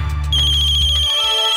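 A phone ringtone signals an incoming call, loud and close, a steady electronic melodic tone that runs alone without any voices.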